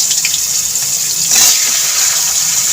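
Chopped taro leaves drop into hot oil tempered with spices and hiss with a broad, bright sizzle that swells briefly partway through. The sound is close and steady, and no one speaks.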